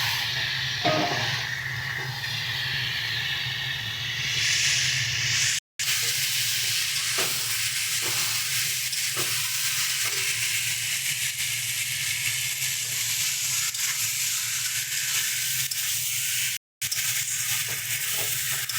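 Pre-fried fish for a Bengali shankar fish and radish curry drops into a spice mixture that has already released its oil. A loud, continuous sizzle and hiss runs throughout, broken by scattered stirring scrapes and two brief dropouts.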